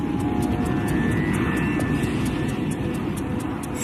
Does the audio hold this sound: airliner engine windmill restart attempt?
yes